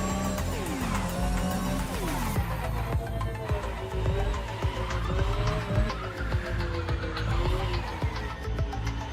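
Tires squeal and skid repeatedly as a car drives hard in a video game, with the engine droning beneath loud, sweeping screeches.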